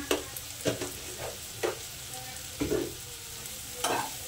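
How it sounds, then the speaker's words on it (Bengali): Spiced tarka with Kashmiri chilli powder frying in a pan, with a faint steady sizzle under repeated scraping stirs that come in short bursts about every second, close and moderately loud. "আবার একটু সুন্দর করে কষবো এটাকে"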